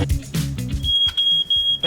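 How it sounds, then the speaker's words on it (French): A smoke alarm sounds a steady high-pitched tone that starts partway through and holds with brief dips, over close talking and handling noise. "Une alarme incendie, elle s'est déclenchée."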